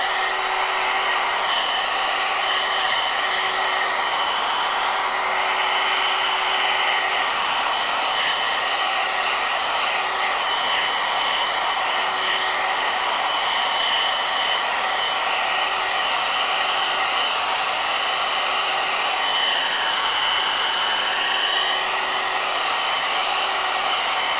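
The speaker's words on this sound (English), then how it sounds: "And we'll just dry that off now before it starts running." A hair dryer blows steadily and loudly to dry wet watercolor paint on paper, a continuous close whirring hum with no breaks.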